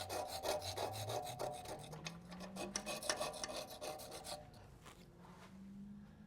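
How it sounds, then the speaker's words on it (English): Old gasket buildup scraped by hand off a Nissan RB26DETT exhaust flange during an HKS front pipe upgrade on a Stagea Autech 260RS, a steady close rasping scrape with a faint mechanical hum underneath, no talking. "we're just scraping off just a little bit of that buildup there"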